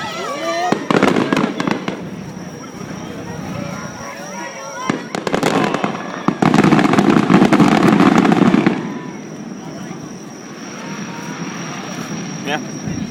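Fireworks bursting at the Tokyo Firework Festival, with a few sharp bangs followed by a dense crackling barrage that fades to a distant rumble, while people talk nearby.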